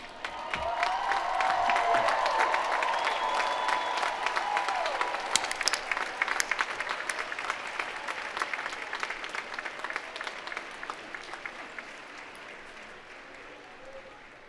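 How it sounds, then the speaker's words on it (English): A large crowd of graduating students at the University of Virginia Class of 2023 final exercises applauds the audience in a long, loud ovation with a few cheers, gradually thinning and fading toward the end. "give a round of applause to those who helped you on this journey"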